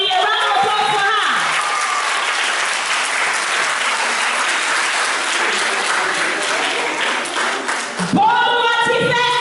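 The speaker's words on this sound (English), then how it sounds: "A round of applause for her." Audience applause for a contestant at a school declamation contest, a sustained burst of clapping from a crowd lasting several seconds, with voices audible at the start and end.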